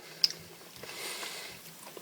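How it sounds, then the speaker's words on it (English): Close, quiet chewing with soft sticky squishes and a sharp crunch near the start, continuing in irregular bites. "have to do so much chewing on an M&M"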